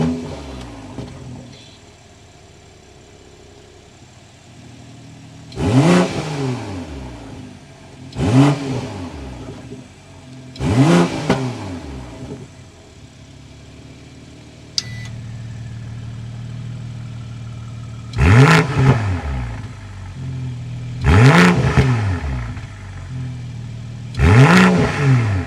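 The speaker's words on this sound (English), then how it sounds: "Let's hear that exhaust note." A 2022 BMW M340i with a twin-turbo engine revs repeatedly from idle, giving six sharp rises and falls in its exhaust note, evenly spaced and close, with a steady idle hum between the revs.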